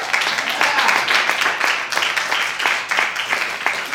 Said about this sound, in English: so thank you, a round of applause.